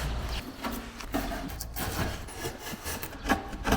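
Repeated rough scraping strokes of a drawknife shaving wood for a wooden surfboard, fairly close, with an irregular rhythm and no voices.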